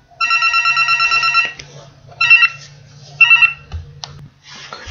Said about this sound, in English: as you can hear the phone